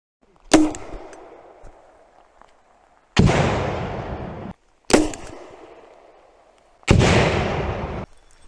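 A FORT-600 Gen.2 grenade launcher fires grenades long-range outdoors, four sharp shots in irregular rhythm, each a loud crack or thump trailed by a rushing, decaying tail, with brief silence between them.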